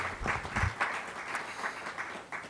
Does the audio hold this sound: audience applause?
yes